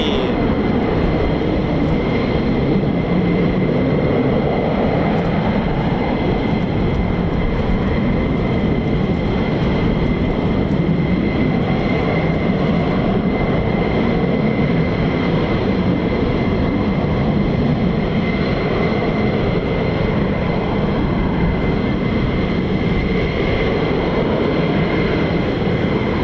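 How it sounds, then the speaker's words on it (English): A US Air Force F-15 or F-35 fighter jet roars during takeoff at RAF Lakenheath, a loud, dense, unbroken engine rumble and roar that holds steady for nearly half a minute with no talk. "What a lovely, splendid takeoff."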